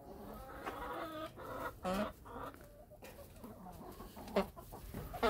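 Backyard chickens cluck repeatedly in short, irregular bursts, fairly close and moderately loud, with brief pauses between calls and no talking.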